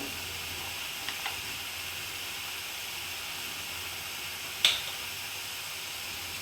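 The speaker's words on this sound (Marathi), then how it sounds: "मसाल्याला छान तेल सुटेपर्यंत परतणार आहे मी" Masala for mutton curry sizzles in hot oil, a steady, quiet frying hiss that runs throughout, broken by one sharp spoon clink on the pan near the end.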